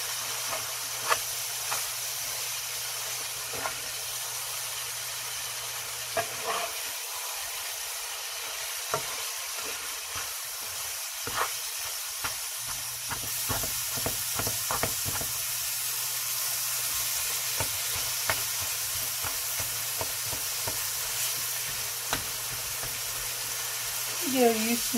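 Meat browns in a hot pan for taco filling, a steady close sizzle with a few clattering stirs, and a voice speaks now and then.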